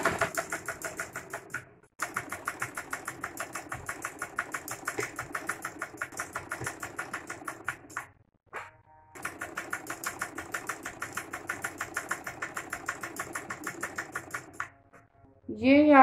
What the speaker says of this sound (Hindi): हमने ऐसे करके इधर साथ साथ सिलाई लगाते जाना।